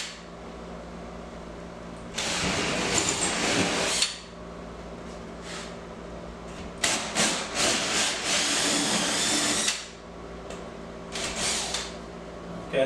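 Power drill or hole saw cutting pilot holes through drywall at stud locations while a floating shelf goes up. Three loud bursts of boring, each a few seconds long, separated by quieter pauses.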